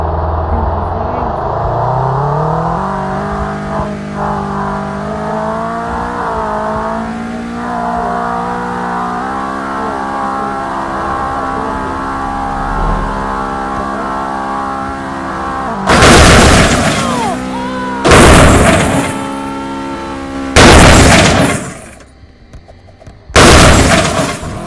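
A police sedan in a car-crash video game revs and speeds with a rising, shifting engine whine, then several loud, sharp crash impacts burst out in quick succession near the end.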